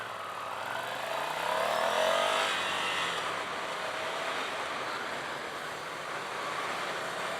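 A 2018 Ducati Scrambler Cafe Racer motorcycle rides in first gear, its engine a steady close roar mixed with broad wind rush, briefly swelling louder before settling to an even drone.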